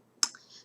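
A single soft computer mouse click, close and quiet, followed by a brief faint tail, during a PowerPoint animation setup.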